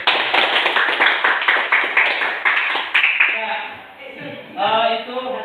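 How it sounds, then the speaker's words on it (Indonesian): A school class gives brisk, rhythmic applause for a group's project presentation, the clapping lasting about three seconds before voices start talking. "sebelumnya kita kasih aplaus dulu untuk"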